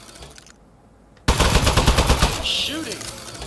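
Rapid burst of turret gunfire erupts suddenly after a quiet stretch and rattles on loudly and steadily to the end, with a faint voice beneath.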